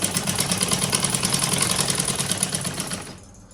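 A sewing machine stitches clothes in a village mud house, running loud and close with a steady rapid clatter for about three seconds before it winds down.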